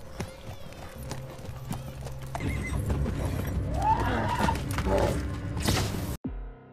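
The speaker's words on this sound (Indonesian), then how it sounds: "Kuda milik Daenerys akan dikorbankan untuk menyelamatkan nyawa Khal Drogo" Horse from a Game of Thrones scene neighs and whinnies loudly amid clopping hooves and creaking movement, building over several seconds before cutting off abruptly.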